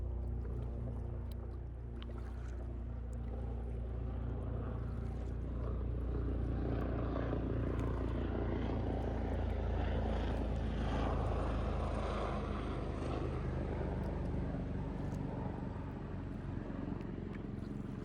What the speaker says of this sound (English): that was a very loud helicopter